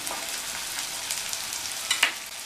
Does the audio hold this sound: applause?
no